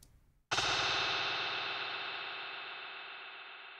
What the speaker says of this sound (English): these are just chops of the drums that are each going into very individual delay throws